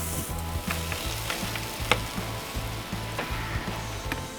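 Kalbi beef short ribs sizzle and crackle on a grill in a steady quiet hiss, broken by occasional sharp pops and spatters, with a low rhythmic mechanical thumping underneath.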